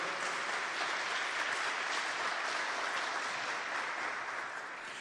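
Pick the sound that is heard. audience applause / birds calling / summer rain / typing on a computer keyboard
audience applause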